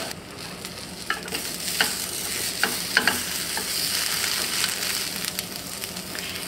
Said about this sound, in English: So right now I just have one in my frying pan.